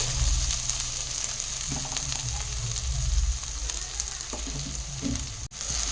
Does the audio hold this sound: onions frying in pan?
yes